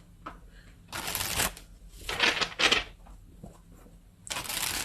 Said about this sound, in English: let's get a few tarot cards and see what this is about